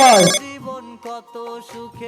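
A phone ringtone plays loudly, a bright melodic tune of repeating electronic notes that starts with a sharp burst and continues steadily.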